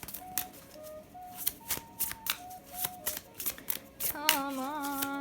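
A deck of Nightmare Before Christmas tarot cards being shuffled up close, with a quick run of crisp riffling flicks and taps, soft music tones playing quietly underneath.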